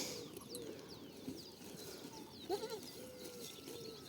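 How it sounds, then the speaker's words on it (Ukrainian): A soft, distant cooing pigeon amid outdoor pasture ambience with chirping birds, one brief coo standing out midway. "Чуєте, голуб співає"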